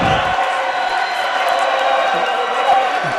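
Crowds roar and cheer at a varsity hockey game, a dense and loud wash of noise that holds steady throughout, with a commentator talking over it.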